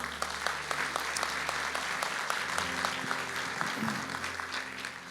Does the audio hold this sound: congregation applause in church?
yes